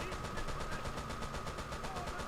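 Machine gun in a Company of Heroes mod match, a sustained rapid rattle of evenly spaced bursts at moderate distance, fairly faint, with other battle noise beneath.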